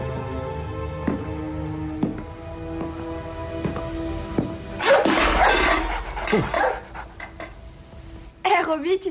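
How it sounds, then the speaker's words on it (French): Chester, a neighbour's dog, pants and barks in short, rough bursts inside a house. The noise comes close and loud, breaks off, then flares again over a steady musical background. "le chien de Madame Elroy, est encore entré"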